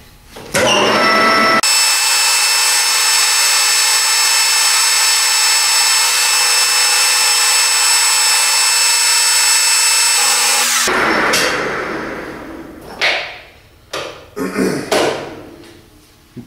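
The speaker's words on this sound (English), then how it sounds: "these inserts for this boring bar were specifically for stainless steel" Lathe boring bar with inserts made for stainless steel cutting a stainless workpiece, a loud steady whine holding for about nine seconds before winding down, followed by a few short clanks and handling knocks.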